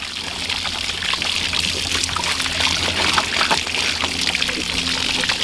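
Outdoors on a hot day, a garden hose sprays fresh water over animals, producing a steady, close pouring and splattering wash that continues without a break.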